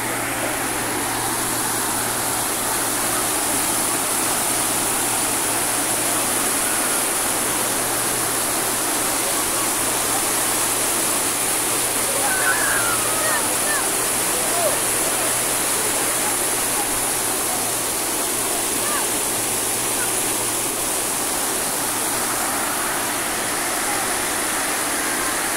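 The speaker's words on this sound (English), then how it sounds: "there is another cascade here, beautiful." A waterfall cascade pours steadily, a dense, unbroken roar of rushing water that holds at the same loud level from start to finish with no other sounds.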